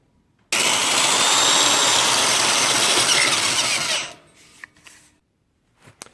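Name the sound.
step drill drilling sway bar bracket holes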